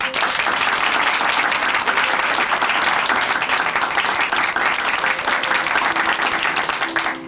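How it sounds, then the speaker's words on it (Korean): A church congregation applauds during a testimony program, a sustained, full round of clapping from a crowd that holds steady for several seconds and tapers at the end. "다시 한번 큰 박수 보내드릴게요."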